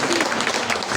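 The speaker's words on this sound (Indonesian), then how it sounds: "Mari kita berikan tepuk tangan kepada mereka." Applause from a church congregation for the Efata choir at a first Mass celebration, a steady dense patter of many hands clapping throughout, fairly loud and unbroken.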